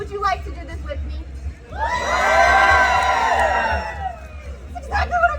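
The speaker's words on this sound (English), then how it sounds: "You will cheer very loudly" A festival crowd at a Renaissance Festival blades-and-bravery show erupts into loud, sustained cheering and whooping, with children's shrieks mixed in. It swells for a couple of seconds and then fades back toward scattered voices.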